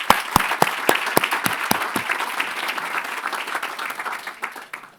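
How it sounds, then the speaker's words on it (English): An audience at the Virginia Preservation Awards ceremony applauds, starting with crisp nearby claps that swell into dense steady clapping before tapering off. "One more round of applause."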